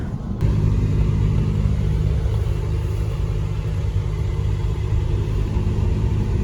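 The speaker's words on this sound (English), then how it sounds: "As you can hear that noise in the back, that's the rear shocks." A 2004 Acura MDX with about 200,000 miles and worn-out rear shocks rolls along, giving a steady, loud low rumble of road and engine noise from inside the cabin with no one speaking.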